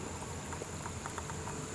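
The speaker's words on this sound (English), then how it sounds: "Still bubbling." Faint, steady bubbling and fizzing of ferric chloride etching aluminium, with small irregular pops over a quiet hiss.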